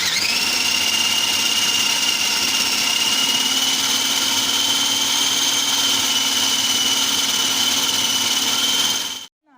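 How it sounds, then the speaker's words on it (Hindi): An electric grinder whirs steadily as it grinds a beef kofta mixture, a loud, constant high-pitched motor whine that holds for about nine seconds and then cuts off abruptly. "इसी में एक दफ़ा और इसको मैं पीस लूँगी"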